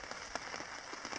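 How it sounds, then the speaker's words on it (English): A soft patter of rain falls on a surface at a lakeside camp on Red Rock Lake in the Boundary Waters, faint and steady, with a few distinct drops standing out. "Not raining quite so hard at the moment as it was, but still raining."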